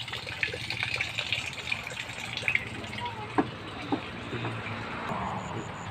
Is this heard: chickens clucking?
no